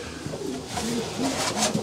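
Racing pigeons in a loft coo in soft, repeated rolling calls, close and clear over a low room hum, several birds overlapping through the short stretch.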